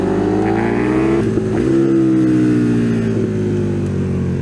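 A loud motorcycle engine, ridden alongside a 200 WHP Kawasaki on roads in Scotland, runs steadily close up, its tone rising smoothly through the revs, briefly dropping and then climbing again without a break.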